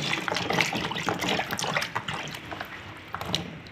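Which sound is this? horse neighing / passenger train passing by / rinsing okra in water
rinsing okra in water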